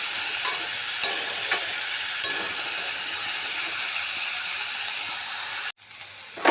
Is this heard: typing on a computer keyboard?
no